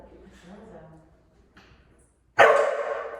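Dogs at play give a few soft yips and whimpers, then a loud, close burst of barking near the end, with some quieter vocal noise early on.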